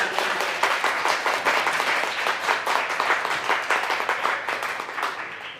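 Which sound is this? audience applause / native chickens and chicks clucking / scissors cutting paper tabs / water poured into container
audience applause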